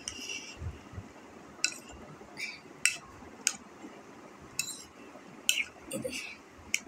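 Egg and okra being mixed in a pan, with sharp metallic clinks of a spoon against the cookware at irregular intervals over a soft background hiss, close and moderately quiet.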